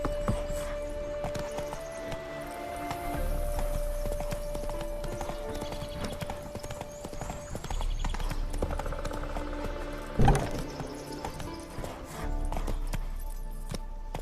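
Horse hooves clip-clop steadily on the ground in the video game The Witcher 3, a continuous rhythmic gait with a sharp thump partway through, with no talk.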